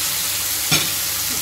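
Garlic and grated tomatoes frying in olive oil, a loud, steady, close sizzle with one quick stirring scrape midway.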